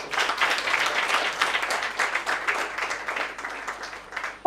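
Audience clapping for the winners at a debate and storytelling academy prize-giving, a fairly close wash of many hands that swells and slowly thins toward the end, ending on a sudden loud knock.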